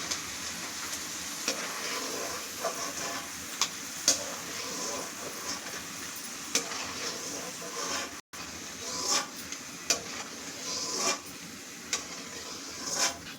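Tempering for lemon rice crackles and sizzles quietly in a pan, a soft, steady frying hiss punctuated by sharp spoon taps and stirring clicks at irregular intervals.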